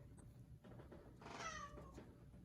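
A pet cat meows once in a kitchen during a cooking lesson, a drawn-out, rising then falling call near the middle, fairly close over steady low room noise.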